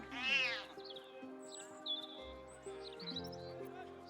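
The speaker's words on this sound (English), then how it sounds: "Attempt to pet the cat." A cat in the Baldur's Gate 3 video game lets out one loud close meow, then a few quieter chirps follow over a soft, steady musical background.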